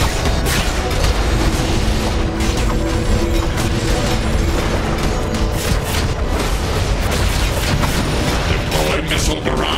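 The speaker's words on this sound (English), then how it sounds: "missile barrage" Missile barrage in the DC Universe Online video game, Area 51 boss fight: a dense, continuous roar of booming explosions and crackling impacts, loud and unbroken throughout.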